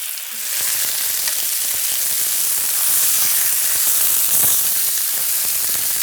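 Chicken pieces searing in a hot pan, a loud steady sizzle and crackle of frying that holds evenly throughout, close up with no voices.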